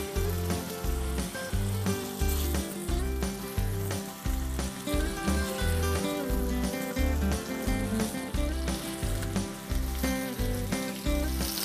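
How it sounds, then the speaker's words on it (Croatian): Turkey meat fries in hot oil in a pan with a steady, continuous sizzle, heard alongside a rhythmic pulsing musical beat throughout. "Pečemo i tako da se svake strane dobije boju"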